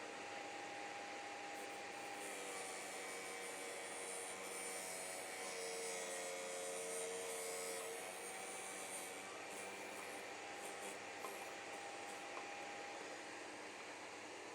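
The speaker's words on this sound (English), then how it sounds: "it feels like I'm getting more of a grind through the whole" A Vevor drill bit sharpening machine grinds a bit in a steady, continuous whir with a scraping rub layered over it, holding at an even level throughout with no voices.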